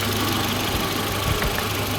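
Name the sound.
car engine running, heard through an automotive stethoscope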